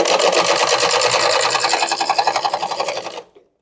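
A sewing machine stitches fabric piping with a loud, close, rapid mechanical rattle that holds steady, slows into distinct stitches, then stops.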